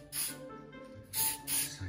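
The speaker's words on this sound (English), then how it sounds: "That's the pound shop spray." A cheap pound-shop glitter spray can hisses in three short bursts, close and fairly loud, over a faint indoor background without talking.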